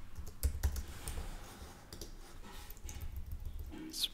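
Quiet clicking of a computer keyboard as text is typed in Figma, in short irregular bursts of keystrokes at close range, with no talking.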